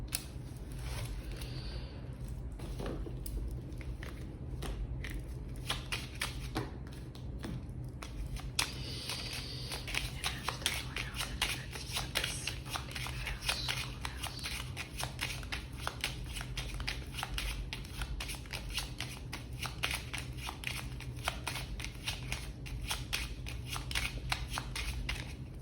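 A deck of tarot cards being shuffled: continuous dense riffling and flicking of cards close by, steady and fairly loud throughout, with brief gaps and no speech.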